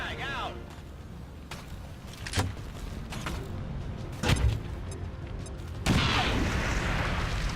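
A frag grenade explodes in XCOM 2 with a sharp burst followed by a louder blast near the end, over constant game noise and a man's speech.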